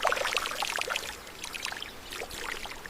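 Water pours and splashes continuously at close range while hands are washed before a cow is milked by hand on a small dairy farm.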